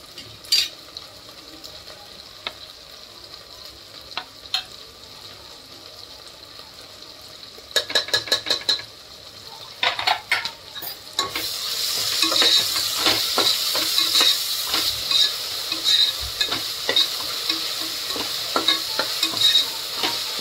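Ginger garlic paste and chopped chillies hitting hot oil with onion in a pan: a quiet simmer first, then clattering stirs and a loud, bright sizzle that swells and holds to the end.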